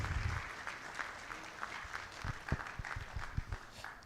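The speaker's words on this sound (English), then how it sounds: "Shall we welcome him with a round of applause?" A round of applause from an audience at a university orientation programme for new students, a moderate diffuse patter of many hands clapping at a middle distance with a few sharper claps standing out.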